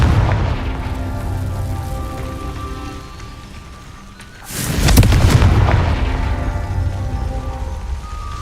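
A Confringo fire spell explodes in Hogwarts Legacy, a sudden loud burst midway that rumbles and crackles before fading into a sustained roar over the game's steady ambient background.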